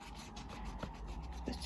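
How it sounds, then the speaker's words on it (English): An eraser rubs across paper, taking out part of a pencil drawing of a girl's face; a soft, steady scrubbing rasp with a couple of faint bumps, fairly quiet and close, with no talking. "rub out some of that side of her face"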